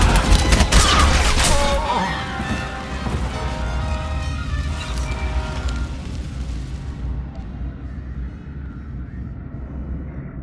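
Blaster gunfire crackles in a rapid burst during a battle in Star Wars: The Old Republic, loud at first, then thinning into a lower rumble and lingering reverberating noise as the fight fades.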